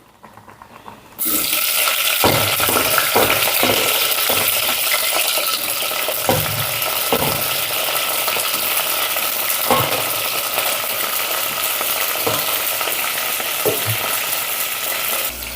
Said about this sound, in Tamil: இது எல்லாத்தையும் நம்ம என்ன பண்ண போகிறோம், எண்ணெயில் போட்டு வதக்க போகிறோம்.